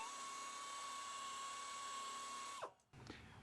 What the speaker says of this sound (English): We're going to get ready to buff that area down, so it'll be one surface for the patch to bond to